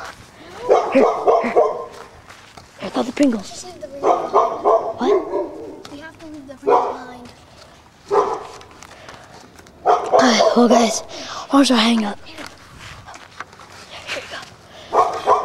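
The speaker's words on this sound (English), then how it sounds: "Oh god, this dog's barking." A dog barks repeatedly in loud, close bursts, with yips and whimpers between them, while people talk over and between the barks.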